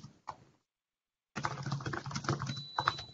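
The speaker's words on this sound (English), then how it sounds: "Can whoever is typing vigorously mute himself or herself?" Someone typing vigorously on a computer keyboard during an online meeting, with rapid clattering keystrokes, a brief burst, a gap of silence, then a dense, continuous run of close, crisp clicks.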